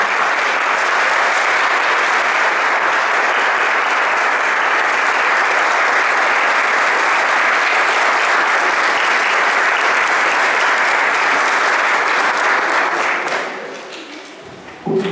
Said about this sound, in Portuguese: Uma salva de palmas para este menino.